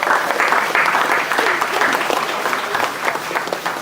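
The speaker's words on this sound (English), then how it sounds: "If y'all will give them a round of applause." A room full of people claps at a city press conference held at a bank-sponsored event, a brief, loud burst of applause that starts strong and tapers slightly toward the end.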